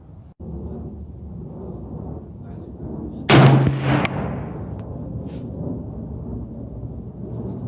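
A single loud, sharp rifle report from a Browning deer rifle fired at a target, standing out against steady outdoor background noise, followed by a short decaying tail and a fainter second crack.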